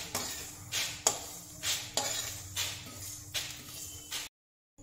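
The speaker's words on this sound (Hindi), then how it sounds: "अब इसको निकाल लीजिए और एक बर्तन में ठंडा होने के लिए रख दीजिए।" Roasted spices are tipped from a pan into a metal vessel to cool in a home kitchen, making five evenly spaced bursts of rattling, clinking scatter followed by sudden silence.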